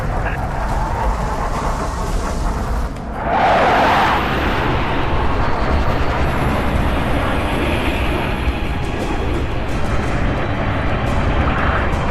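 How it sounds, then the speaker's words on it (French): Orbital defense gun firing in Halo: Reach, a deep booming blast that swells into a heavy rumbling roar over a constant low engine-like drone, loud and close. "La défense orbitale est en place pour tirer"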